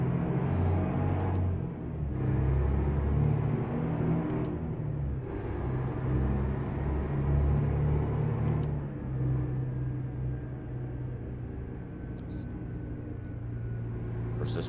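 The engine of an International 9800 cab-over truck in American Truck Simulator rumbles steadily throughout, swelling and easing as the throttle changes, with someone talking over it.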